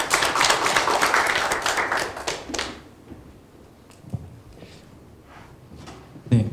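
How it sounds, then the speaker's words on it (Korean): Lecture audience in a Korean tech exchange seminar hall applauding after the final talk, a dense burst of clapping for under three seconds that quickly thins to a few scattered claps and faint shuffling. "마지막 강연을 해주신 실장님께 다시 한번 큰 박수 부탁드리겠습니다"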